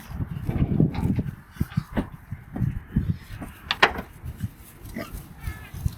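Pigs in a farm paddock, boars and sows together, give scattered grunts and snorts at close range, with a few sharper squeals and some rustling and knocking in between.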